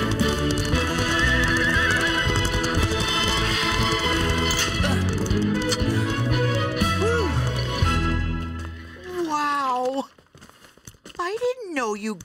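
Cartoon horses whinny and neigh amid busy background noise and music, with faint hoofbeats; near the end the sound thins out to rising and falling whinnies.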